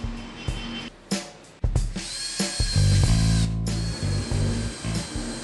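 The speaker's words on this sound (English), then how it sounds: "And then drill some pilot hole before driving the screws." A power drill whirs in several bursts drilling pilot holes, stopping and starting, its motor pitch shifting as it bites into wood at close range.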